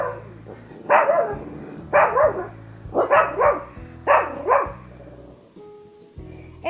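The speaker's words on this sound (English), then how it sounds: "Now she likes to bark at the neighbor." A pet dog named Willow, a girl, gives a run of loud, close barks, five or six in an uneven rhythm, followed by a brief high whimper near the end.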